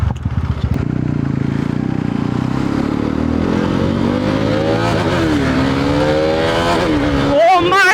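A KTM Duke 390 motorcycle engine, the old BS3 version, pulls hard under acceleration, its loud close roar climbing in pitch through gear changes, with a voice talking over it.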